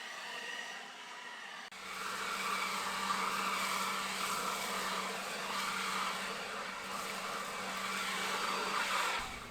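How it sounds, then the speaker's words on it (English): An Alloyman 40V cordless leaf blower on its low setting clears leaves from a flower bed outdoors, starting up after a quiet moment into a steady, close whooshing roar with a faint motor whine that holds to the end. "Right here I'm using the low setting to blow some leaves out of the flower bed"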